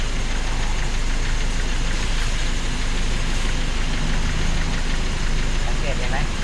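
A carburetted eco-car engine runs steadily in a Khon Kaen repair shop while a mechanic adjusts the carburetor to cut black smoke. Its low, continuous drone holds without clear revving, with broadband workshop noise over it.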